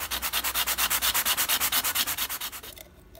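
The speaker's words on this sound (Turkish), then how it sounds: "Gördüğünüz gibi kolayca çıkıyor arkadaşlar zımparalayınca." Rapid, rhythmic rasping of sandpaper rubbed back and forth on the metal of a cola can, about eight strokes per second, close and steady before stopping abruptly.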